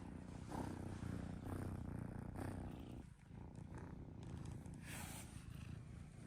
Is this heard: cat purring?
yes